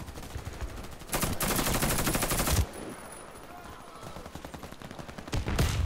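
Automatic gunfire from a weapon in the online shooter Warface during a team deathmatch, with two loud sustained bursts of rapid shots separated by quieter stretches of game ambience.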